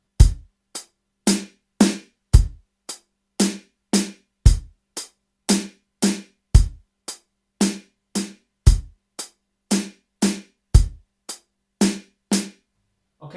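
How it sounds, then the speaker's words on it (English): A steady drum kit pattern adds a snare hit on the fourth hi-hat beat, so sharp hi-hat ticks, thumping kick and a snappier snare crack repeat in an even loop, close and loud with no voices. "So we've added a snare drum on the 4th hi-hat and it will sound like this."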